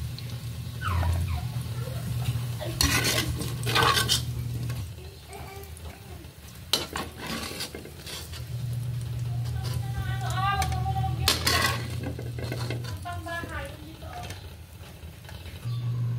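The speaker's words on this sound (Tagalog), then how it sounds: "dito na rin po tayo magigisa at dadagdagan lang po natin ng pampalasa po na margarine" Turkey caldereta vegetables sauté in margarine in a pan, giving a steady frying sizzle with stirring scrapes and clatter throughout, while a person talks over the cooking.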